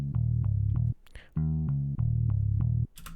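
A bass line with reverb and distortion effects pulses in loud, rhythmic repeated notes, with a short pause and a pitch change in the middle, then returns to the pattern and ends with a brief noisy tail.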